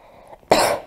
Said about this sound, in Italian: Fammi un colpo di tosse.